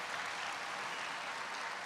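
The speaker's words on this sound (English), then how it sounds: "I guess that was what that big applause was." Applause from an audience at a presidential event on protecting America's seniors, a dense, steady wash of clapping from a large crowd that holds evenly throughout, with no voices over it.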